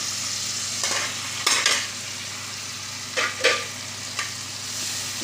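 Masala powder stirred into sautéed onion and tomato in sesame oil in a pan for an oil brinjal gravy, with a steady low sizzle and a few scraping stirs of a spoon against the pan.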